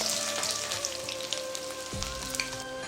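Bay leaf and onion tempering fry in hot oil for a Chhattisgarhi boda and karela dish, giving a steady, crackly sizzle under a faint background hum.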